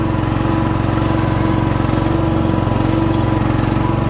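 Craftsman hydrostatic riding mower with a Briggs 15 hp engine and an aftermarket carburetor, surging at lower RPMs, drones loudly and steadily up close with a fast, even pulsing and no talk.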